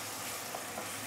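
Fermented soybean paste (taucu) sautéing in hot oil, a soft, steady sizzle with faint crackles, short and close.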